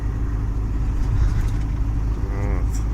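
A car drives at night through the town of Sim in a snowstorm, giving a steady, loud engine and road rumble from inside the cabin with no break over the short stretch.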